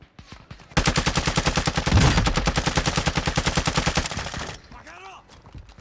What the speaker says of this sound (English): I'm getting shot at from the road, but they can't hit me for some reason